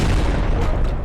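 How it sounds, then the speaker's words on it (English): A grenade explodes in Fallout 4, a loud, dense, close boom filling the short moment. "That's a grenade."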